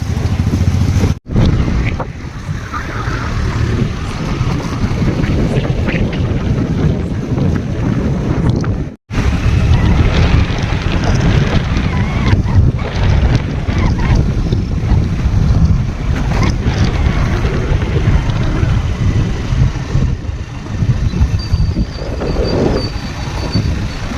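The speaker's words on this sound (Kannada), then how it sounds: "ಎಷ್ಟು ಮಳೆ ಐತೆ ನೋಡ್ರಿ ಈ ಕಡೆಗೆಲ್ಲ ಫುಲ್ಲು ಮಳೆ ಬಿಡಾಕೈತಿ" Heavy rain falling outdoors, a loud, dense, continuous hiss with wind buffeting the microphone and two brief dropouts.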